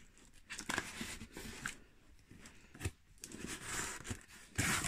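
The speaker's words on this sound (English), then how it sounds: "So, cut it open." A package being cut open for an anime and Pokémon merchandise unboxing, close-up snipping, tearing and crinkling of tape and packaging in quick irregular bursts.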